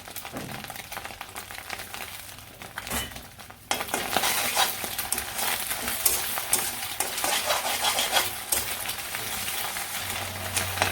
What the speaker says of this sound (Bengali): পেঁয়াজ বাজিয়ে গেছে এখন ডিম দিয়ে দিই